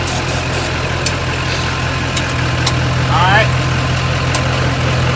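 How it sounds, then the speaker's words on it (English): A Chevy ramp truck engine, jump-started from a Duramax, idles with a steady low rumble throughout, close by, while people talk briefly over it. "So now the battery was about dead, so we're going to try and fire it up with those Duramax"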